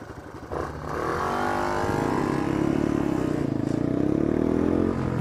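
A vintage Sears two-stroke motorcycle engine runs close by with a misfiring, uneven note, starting after a brief pause and then holding a steady, loud drone with irregular stumbles for several seconds.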